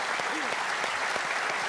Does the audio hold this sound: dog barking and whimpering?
no